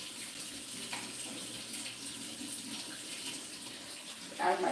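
Water runs steadily into a container for mixing deep red yarn dye, a continuous close rushing pour lasting the whole stretch, with a brief brighter splash near the end and no talk.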